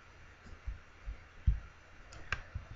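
A computer mouse clicks a few times in a quiet room. The sparse, faint taps include a quick double click near the end.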